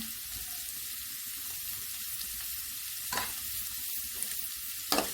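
Chopped onions, tomato and salt fry in a pan, giving a steady, soft hiss of sizzling. A few sharp clicks from stirring break through the sizzle now and then.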